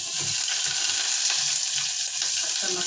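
Dried fish, tomato and onion are sautéed for an okra dish, giving a steady, close frying sizzle with soft stirring scrapes throughout.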